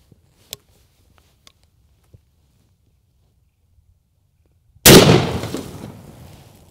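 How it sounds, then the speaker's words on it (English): A single loud 20 gauge shotgun slug blast fired at jugs outdoors bursts out suddenly and rings off in a decaying echo, after a quiet stretch with a few faint clicks. "I'm gonna try to do a better job of lining that shot up."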